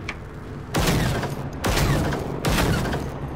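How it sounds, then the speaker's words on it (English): Three heavy, booming gunshots from the video game Generation Zero ring out about a second apart, each loud and close with a long reverberant tail. "Oh, there you go, I shot him."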